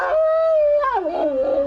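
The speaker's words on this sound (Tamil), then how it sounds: "நாய்கள் ஊளையிட்டுக் கொண்டிருந்தன." Dogs howl in a long mournful wail that holds steady and then bends downward into wavering tones, fairly close, with no voices.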